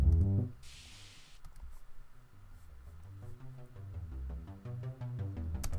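A Stranger Things style synth pad in GarageBand, swelling in gradually under volume automation, with low pulsing bass notes and a steady arpeggiated pattern building over several seconds and no talk.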